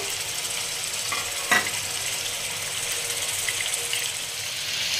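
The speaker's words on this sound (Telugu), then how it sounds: "ఆయిల్ వేసుకొని ఫస్ట్ అయితే చికెన్ బాగా ఫ్రై చేసుకుందాం." Chicken pieces fry in hot oil for a chicken gongura gravy curry, giving a steady, even sizzle with one brief clack near the start.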